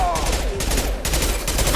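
Gunfire in the video game Mass Effect 2, rapid overlapping bursts of shots in quick succession, loud and close, with a voice briefly heard under it.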